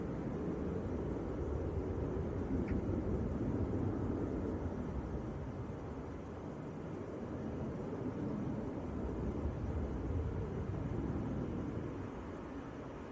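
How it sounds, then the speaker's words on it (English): Danish Air Transport ATR 72 turboprop pushing back at Leeds Bradford Airport, a steady broad engine rumble and hiss held at constant level throughout, moderately distant with no talk. "Here's the Danish air transport just pushing back, operating for Aer Lingus"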